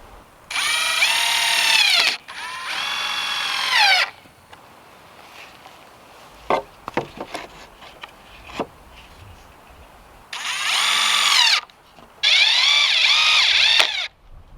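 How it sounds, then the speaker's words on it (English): A power saw cuts 2x4 boards for a raised garden bed frame, two loud whining bursts of cutting followed by clattering wood handling and thumps, then two more saw passes close by. "now we're gonna come back and cut these, and we'll do the same for the cross 2x4s here"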